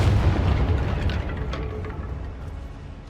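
Confringo blasting spell exploding in the Hogwarts Legacy video game, a loud booming blast with a heavy low rumble that rolls on and slowly fades over a few seconds, with no talk.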